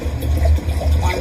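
Two cups of water pour into a large measuring cup, a short burst of gurgling, splashing liquid in two quick surges, close and moderately loud, with no talk.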